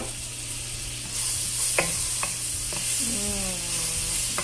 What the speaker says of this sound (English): So then once your butter is almost melted, go ahead and add in your onion and your garlic.